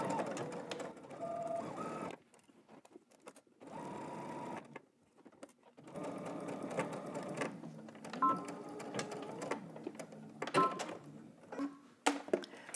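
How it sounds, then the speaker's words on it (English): A sewing machine stitches a 5/8-inch seam allowance on fabric for a pair of pants, running in several bursts of steady mechanical whirring with brief pauses between them and a few short clicks near the end. "We're gonna go ahead and stitch this using 5/8 of an inch seam allowance."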